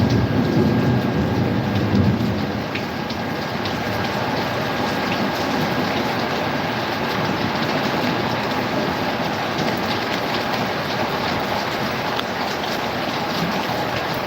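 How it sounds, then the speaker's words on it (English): Heavy rain pours steadily during a thunderstorm, a dense continuous hiss close to an open window, with no voices. "That's a lot of rain."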